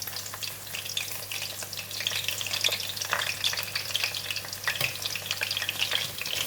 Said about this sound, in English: Oil is really very hot and I'm going to fry the garlic first